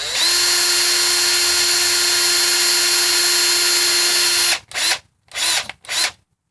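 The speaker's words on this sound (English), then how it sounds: "that's the 5th hole we've done with the drill bit B, which is 46 thousandths." A power drill fitted with a 46-thousandths drill bit cuts a hole in a VW 09G transmission valve body, giving a steady high whine for about four seconds, then three short bursts with pauses between them.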